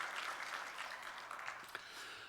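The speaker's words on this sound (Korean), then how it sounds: "우리 찬양 받으신 주님께 영광의 박수" A church congregation claps at a Sunday worship service, a short burst of scattered applause that is faint and distant, with no one speaking over it.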